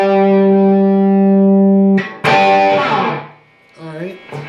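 Electric guitar plays an outro lick with distortion and effects: a sustained chord rings for two seconds, then a sharp attack, bent notes and a short closing phrase, loud and close.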